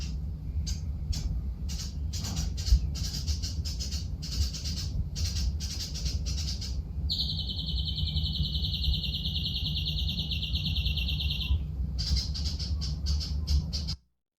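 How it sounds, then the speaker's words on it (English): Birds singing a morning chorus in a tree close by, with dense, rapid repeated chirps and a long sustained high trill over a steady low background hum. "the birds that are literally right next to me in the tree doing their morning chorus"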